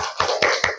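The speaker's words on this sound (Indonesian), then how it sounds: "beri tepuk tangannya" A few hand claps in a classroom session, three sharp close claps spaced evenly apart with no voices between them.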